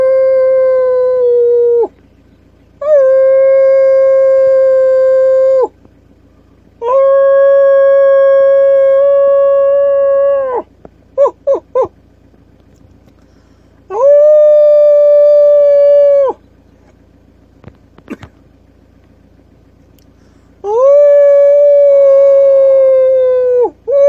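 A dog howls on a toll road in Turkey in long, drawn-out wails, each rising then holding, repeated several times with short pauses and a few brief yips between.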